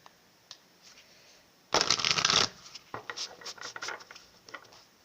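Tarot cards shuffled and drawn from a deck: a dense, papery riffle burst close to the mic, followed by lighter scattered rustling and slides of cards.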